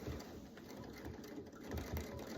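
A Radiance quilting machine with a stitch regulator sewing, giving a faint, steady mechanical whir with a fast, even stitching pulse throughout.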